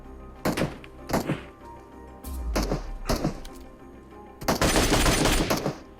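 MK12 marksman rifle fired in PUBG Mobile: four separate loud single shots spaced about a second apart, then a longer heavy burst of fire, each with a booming low-end thump.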